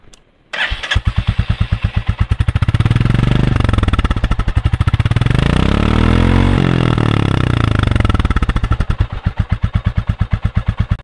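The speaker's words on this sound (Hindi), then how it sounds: "अब मैं आपको आपको एक बार बाइक की आवाज़ सुना देता हूँ।" A 2022 Royal Enfield Classic 350 motorcycle engine starts with a sharp catch, then settles into a loud, steady thumping idle with a brief rev swell before dropping back.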